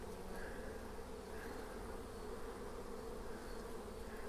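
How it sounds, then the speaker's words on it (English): Honeybees crowd around a hive entrance in fall with a hornet nearby, a dense, steady close buzzing drone with no talking. "There's so many honeybees there, he can't get in if he wanted."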